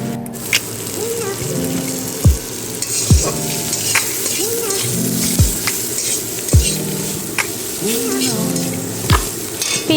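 Onion and capsicum sizzle in a pan for chilli garlic cauliflower, a loud, continuous fry broken by sharp spatula stirs and scrapes roughly every second.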